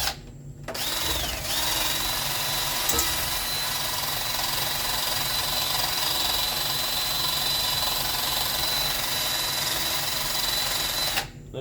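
A power tool polishes rust off a Mercruiser 454 exhaust riser on a Baja boat, giving a steady high whine that runs continuously for about ten seconds between short pauses.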